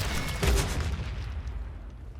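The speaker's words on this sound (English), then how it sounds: "Let's just grenade launcher them." A grenade launcher fires in The Forever Winter, giving one deep muffled thump that rolls into a low rumbling explosion and fades away, with no talk over it.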